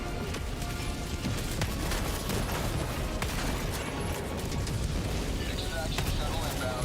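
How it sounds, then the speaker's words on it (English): Orbital strike explosions rumble in the video game Helldivers 2 amid continuous battle noise, with dense crackling blasts and booms that keep going throughout and scattered sharp impacts, and voices speak under the din. "Requesting orbital strike!"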